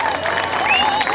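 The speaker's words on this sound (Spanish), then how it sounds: "Quiero que le den un aplauso al organizador" A crowd applauding steadily throughout, with a few faint whistles or voices rising over the clapping.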